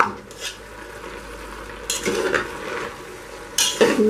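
Spaghetti being mixed with sauce in a pot, soft wet squelching and scraping of a utensil in bursts with short clinks against the pot, close and fairly quiet.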